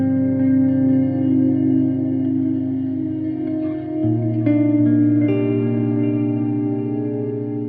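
Guitar through the dual delay algorithm of a Boss pedal, a sustained droning tone with echoing repeats that shift pitch midway and add new layered notes, loud and washed in delay with no voices.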